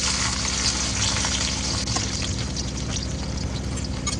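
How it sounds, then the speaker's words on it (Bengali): Chopped nuts and raisins fry in hot oil in a wok, a dense, constant crackling sizzle close up with a low steady hum beneath and no speech. "সেই কাটা বাদামগুলো এখন তেলের মধ্যে ভেজে নিচ্ছি।"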